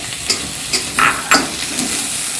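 A spoon scrapes and stirs through paneer gravy vegetables, including capsicum, sizzling in a pan, several distinct clanks and scrapes over a steady background hiss of frying.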